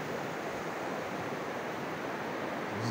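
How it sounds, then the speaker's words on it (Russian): Steady, continuous rush of a flowing stream murmuring along in Putkhin village, Tajikistan, close and even, with no pauses and no voices. "Прекрасная природа, журчит вода, поют птички."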